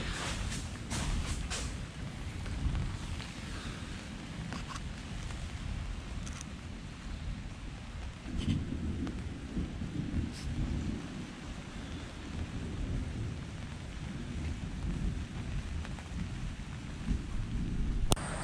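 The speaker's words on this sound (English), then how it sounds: "Downpoured for a little bit, a lot of thunder and lightning." Heavy thunderstorm rain pours down steadily around a canvas tent at a campsite, with deep rolling thunder rumbling through and sharper cracks near the start, sustained and loud throughout with no talk.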